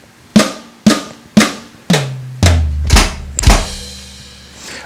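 Beginner drum fill on an acoustic drum kit: six sharp, evenly spaced hits roll around the drums with tom tones dropping lower, ending on a crash cymbal that rings out, loud and close.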